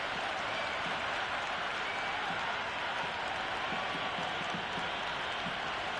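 A large crowd in the cricket video game Cricket 26 roars and murmurs continuously in the distance, a broad steady wash of cheering and noise with faint scattered claps.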